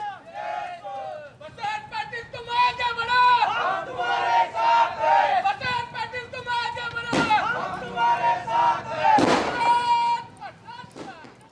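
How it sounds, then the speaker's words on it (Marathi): Crowd cheering and shouting at a political celebration with a couple of sharp firecracker bangs bursting through, loud and close. "फटाक्यांची आतषबाजी, गुलालाची उधळण करत जल्लोष करण्यात आला"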